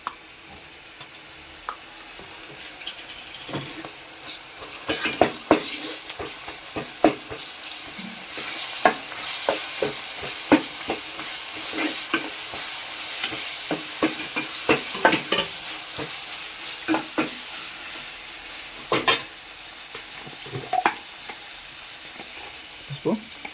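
Ginger sizzles in a hot pan for a village-style bottle gourd chicken curry, with a continuous fry hiss and frequent sharp scrapes and clacks of a spoon stirring up close.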